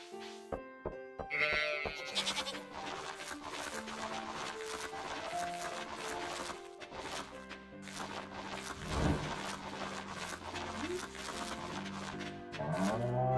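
Sheep bleating in the farming game Stardew Valley, a short game-audio bleat over busy background music and chimes.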